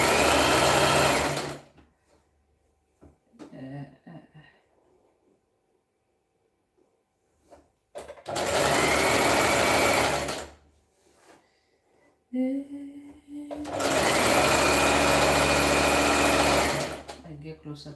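A sewing machine stitches two sides of fabric together in three loud, close runs of rapid, steady whirring. Quiet pauses with small handling clicks fall between the runs.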